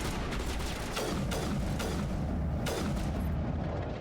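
Sniper rifle fire in the video game Mass Effect: loud, booming shots repeat roughly once a second over a dense, constant roar of battle noise.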